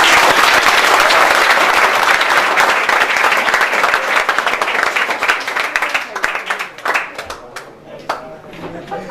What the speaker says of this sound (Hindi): मेरे साथ टीचर से एक बार जोरदार ताली बजाएं